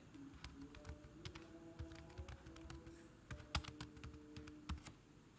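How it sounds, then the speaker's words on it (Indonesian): Quick clicks of a computer keyboard as text is typed into a word processor, a steady close patter of keystrokes with a few sharper taps, quiet overall and without speech. "Kita ketik dulu ya."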